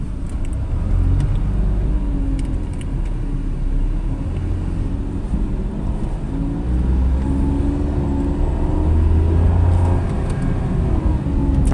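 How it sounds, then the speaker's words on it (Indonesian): A Brio Satya or New Agya 2024 hatchback being driven, heard from inside as a steady low engine drone and road rumble that swells slightly near the end, with no talk over it. "kalau telat gigi dia mesinnya suaranya kasar ya"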